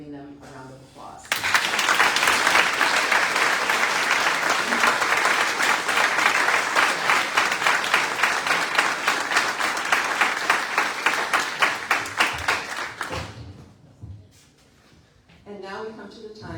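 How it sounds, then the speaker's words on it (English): An audience at a teacher awards ceremony breaks into sustained applause, many hands clapping loudly and steadily for about twelve seconds before it tapers off into quiet. "please join me in giving them a round of applause"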